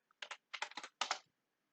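A short run of computer keyboard typing: a few quick clusters of crisp key taps, close and quiet, with no voices.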